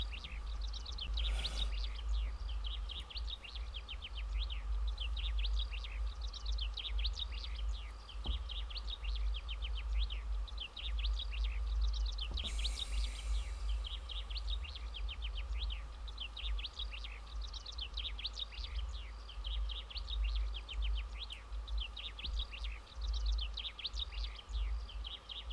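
In the Bugsnax video game, birds chirp and tweet without pause for about twenty-five seconds over a steady low ambient hum, with a few brief louder rustles and no talking.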